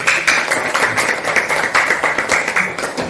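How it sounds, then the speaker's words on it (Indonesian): Classroom audience applauding a student group, a loud, even wash of many hands clapping for about three seconds, close and continuous. "tepuk tangan untuk kelompok 1"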